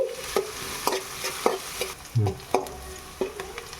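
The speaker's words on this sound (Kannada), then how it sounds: "ಇದು ಫ್ರೈ ಆಗ್ತಾ ಇದೆ" Food frying in a pan, heard as a soft sizzle broken by regular spatula scrapes and knocks against the pan every half second or so, close and fairly quiet, with no speech.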